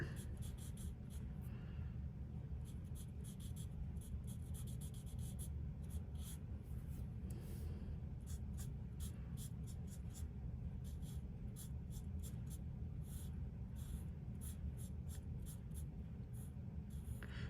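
A fine-tip marker scratches across paper while a flower is colored in, with soft repeated strokes in an irregular rhythm, quiet and close, over a low background rumble.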